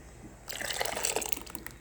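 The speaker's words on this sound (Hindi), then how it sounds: "तो अब हम इसमें अपना साबूदाना मिक्स करेंगे।" Sago pearls pour into boiling milk for kheer, a brief, close patter and bubbling splash that starts abruptly and fades within a second or so.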